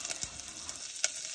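Moong sizzling and sputtering in hot oil as it is sautéed with spices and garlic, a steady close hiss with a few sharp pops and crackles breaking through.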